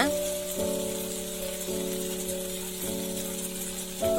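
Green chillies sautéing in a pan, a steady close sizzle of frying under a sustained tonal hum that cuts in and out in repeating stretches.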